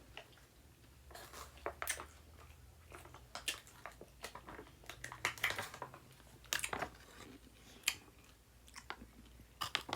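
Close, crunchy chewing of a pickle, with a string of crisp, irregular bites and crunches over about ten seconds, quiet and alone with no talk.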